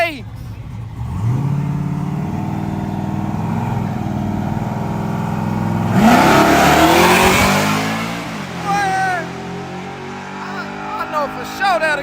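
A truck engine revs hard at a night street race, a loud rising and falling roar that swells to a peak, with people talking and shouting over it nearby.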